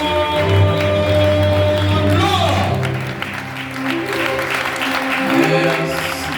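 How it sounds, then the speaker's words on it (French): Wedding guests applaud at a nuptial ceremony, clapping mixed with loud music and voices that dominate the first half, then a looser patter of hands continues under the sound of the room. "Applaudissez pour nous, s'il vous plaît, messieurs, madame."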